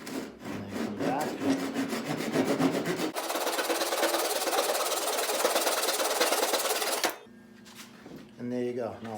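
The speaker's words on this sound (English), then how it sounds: "This is a Japanese saw, so it cuts on the pull. So I'm going to just put this in here, get a little groove started, and then pull back nice and easy." A Japanese pull saw cutting a groove in wood for a hose reel, first short rasping strokes, then a long steady sawing run before stopping abruptly, followed by a voice talking.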